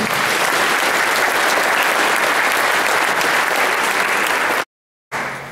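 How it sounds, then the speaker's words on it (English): Loud, steady applause from a crowd at a high school jazz ensemble concert, sustained clapping that cuts off abruptly near the end, then briefly resumes. "Give them a round of applause."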